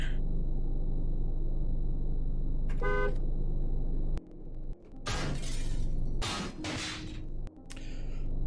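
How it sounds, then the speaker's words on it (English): Car horn honking in the Cataclysm DDA video game: a short burst of repeated honks around the middle, amid breaking glass crashes and rumbling game noise. "Do some horn honking."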